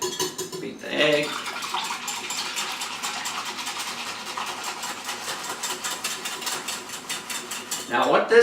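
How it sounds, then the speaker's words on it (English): An egg is beaten in a bowl with a small whisk while bread dough is being made, giving a fast, steady clatter of rapid metallic strokes that stops briefly and resumes near the end. "Take your little whip, beat the egg."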